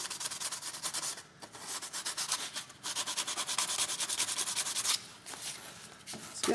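A worn piece of 220 grit sandpaper is rubbed rapidly back and forth over a shield workpiece, making a steady, close, raspy scrubbing rhythm with a few brief pauses.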